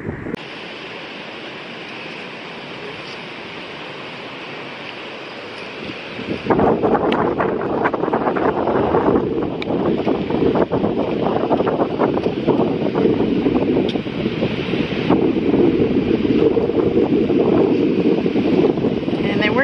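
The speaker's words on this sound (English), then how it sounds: "It's really windy right now" Strong wind buffeting the microphone at a beach resort in Cancun, a loud constant rumbling roar that rises sharply a few seconds in and stays heavy, with faint surf underneath.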